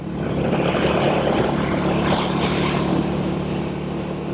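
A 1959 Indian Fire Arrow motorcycle riding at about 50 miles an hour in fourth gear, a steady close engine drone blended with broadband wind rush, fairly even and continuous with no talk.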